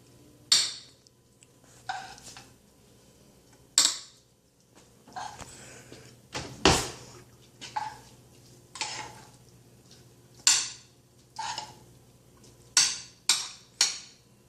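Cooked mahi fish is dished onto plates with a slow series of sharp, isolated clinks and scrapes of utensils against dishware, spaced a second or two apart in a quiet kitchen.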